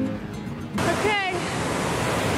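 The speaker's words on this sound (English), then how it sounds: "we are now at this awesome waterfall." A Yosemite waterfall roaring as a steady, loud broadband rush that swells sharply after the first second and then holds, with voices faintly under it.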